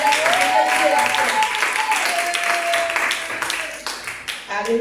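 A church congregation applauding during Sunday worship, a dense wash of clapping filling the room, with voices cheering and speaking over it as the applause gradually thins toward the end.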